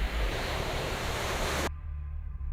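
AI-generated sound effect of beach waves: steady broadband surf roar washing continuously, close and fairly loud, cutting abruptly to quieter low rumble near the end, with no voices.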